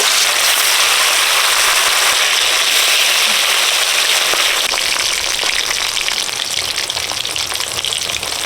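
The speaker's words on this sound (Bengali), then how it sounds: "তেল গরম হয়ে গেছে মাছ ভাজা দিয়ে দিচ্ছি" Fish coated in salt and turmeric frying in hot oil, a loud continuous sizzle and crackle with dense spitting pops that keeps up steadily from start to finish, with no talking.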